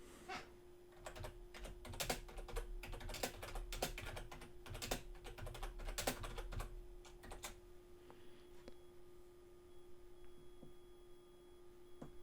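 Keys clatter on a computer keyboard as text goes into a search box, a close, quick run of clicks in bursts that thins out toward the end over a faint steady hum, with no talk.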